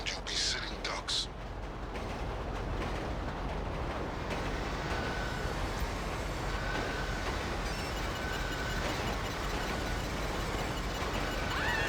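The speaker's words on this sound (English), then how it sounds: "You need to keep that train moving at all costs." A train rolling along in GTA Online during the Clucking Bell Raid, a steady broadband rumble and rattle that fills the clip, with a faint voice underneath early on.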